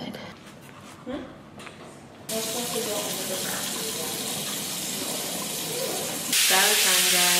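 A shower in a Tokyo capsule hotel starts running with a sudden loud, steady hiss of falling water that keeps going and grows harsher near the end.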